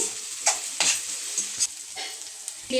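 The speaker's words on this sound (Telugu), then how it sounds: "కొత్తిమీర వేసిన తర్వాత కలపండి." Sabudana khichdi stirred in a pan after coriander goes in: a few scraping, sizzling strokes of a spoon at irregular intervals over a soft background sizzle, close and moderately loud.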